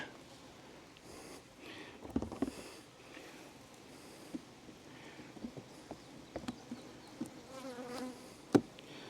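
A wasp buzzes faintly around wet beehive frames while a deep super is added, with soft intermittent knocks and handling clatter nearby and one sharp click near the end.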